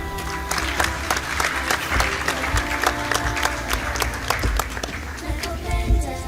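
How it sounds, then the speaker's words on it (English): Audience at an East African Community high-level forum applauds a youth climate ambassador, lively mixed clapping with distinct sharp individual claps standing out over the crowd, continuing throughout. "One more round of applause for Sharon and the other youth climate ambassadors"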